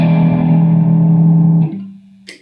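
An electric guitar chord through a ZT Lunchbox amp with overdrive rings out with overdriven grit, sustains, then decays as a single low note carries on before a quick string scrape.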